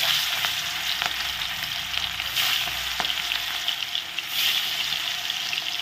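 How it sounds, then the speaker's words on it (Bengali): Flour-battered fish fries in hot oil, giving a steady close sizzle with scattered crackles and pops. "এখানে তেল গরম আছে, তেলে এখন দিয়ে দিব।"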